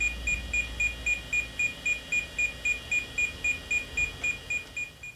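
Steady, regular electronic beeping from a Paradise Basic VGA card, about three short high-pitched beeps per second, continuing without pause over a low hum.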